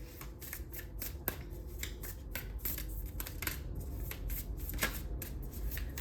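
Oracle cards being shuffled by hand close up, a quick series of crisp riffling flicks and card slaps in an uneven rhythm, with no speech.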